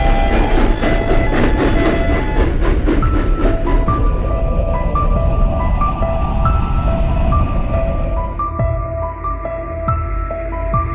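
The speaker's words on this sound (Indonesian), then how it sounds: "Bos marah karena dihalangi perlintasan kereta api di jalur perbatasan antara pertanian dan hutan." At a railway crossing between farmland and forest, a train rumbles past with rhythmic wheel clatter, loud and near, while the crossing bell rings on steadily as the train noise eases.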